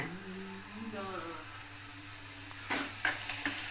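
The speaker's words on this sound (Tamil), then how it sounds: "வெங்காயம் நல்லா வதங்கிடுச்சு" Onions sautéing in a clay pot for a dried-fish curry, a steady soft sizzle and frying hiss running throughout, with a few brief stirring scrapes near the end.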